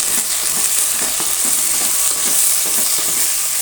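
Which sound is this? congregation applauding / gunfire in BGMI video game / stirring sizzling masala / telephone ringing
stirring sizzling masala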